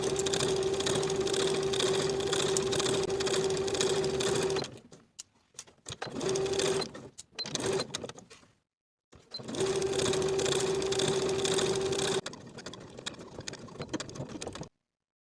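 A sewing machine runs steady stitching along the back seam of a tailored coat lining, whirring loudly in long continuous runs broken by short pauses and stops.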